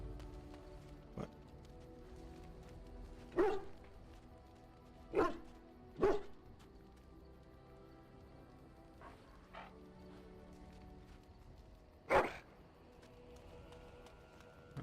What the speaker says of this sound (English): That's one happy dog.